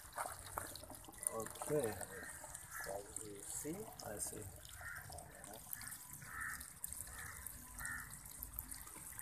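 Water flowing through the pipe of a hydroponic growing system in Dar-es-Salaam, a soft steady trickle running under a man's speech throughout.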